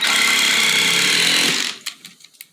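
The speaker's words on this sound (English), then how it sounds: "And this is an impact driver." A cordless impact driver runs in one loud continuous burst while driving screws into a mobile home bathroom floor, then stops, followed by a few brief knocks and clicks.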